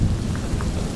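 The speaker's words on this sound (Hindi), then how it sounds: "ये बादलों की गड़गड़ाहट भी आपने सुनी होगी" Low thunder rumbling from a storm along a mountain trek route between Nathiagali and Beeran Gali, a steady dense roar filling a short moment with faint rain hiss and no voices.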